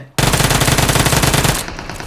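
Rapid automatic gunfire in the PUBG Mobile battle royale game: a loud, sustained burst of evenly spaced shots for over a second, then a fading tail.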